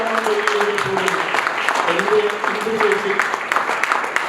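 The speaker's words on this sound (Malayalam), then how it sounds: "തീർച്ചയായും നിറഞ്ഞ കയ്യടി അവർക്ക് കേൾക്കാൻ കഴിയും" Applause from an audience at the release of Indhulekha's book Manthrika Kuthira, a dense, steady wash of clapping over about four seconds, with tonal voices or music faintly running underneath.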